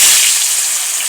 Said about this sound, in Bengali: এখন মাংসগুলা বাইজা নিব